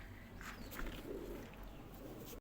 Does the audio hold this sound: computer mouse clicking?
no